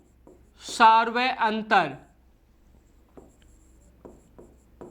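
Writing on a board during a maths lesson: a few short, soft scratchy strokes come in the second half, faint and sparse, after someone speaks at the start.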